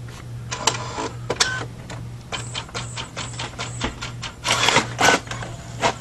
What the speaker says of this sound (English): You'll hear it load up again and start printing